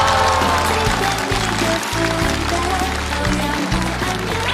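Audience applause at a comedy talk show taping in a studio, a steady dense clapping wash lasting throughout, loud and continuous with music and low rhythmic backing underneath.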